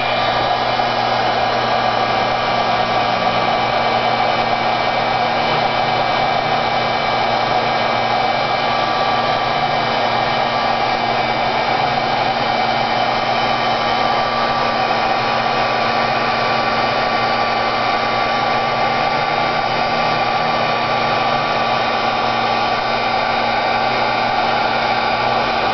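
Heat embossing tool blowing hot air in a steady, loud, continuous whirring hiss that holds unchanged from start to finish, with no talk.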